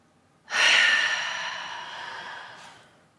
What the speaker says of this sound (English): go ahead and open mouth, exhale, release out the old breath